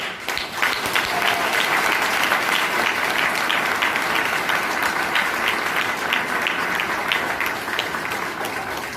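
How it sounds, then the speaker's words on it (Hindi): A large audience claps steadily for about nine seconds at a gathering, with individual claps audible within a full, continuous, close applause that fades slightly at the end. "जब उधर से जब तालियां बजेगी तो मैडम की जुबान खुलेगी।"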